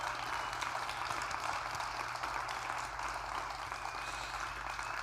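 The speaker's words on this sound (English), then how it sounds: "please give yourselves a huge round of applause" A standing audience at a speaker showcase event applauds themselves, a loud, continuous roar of clapping that stays full and even from start to finish.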